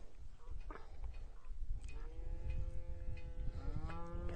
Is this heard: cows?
yes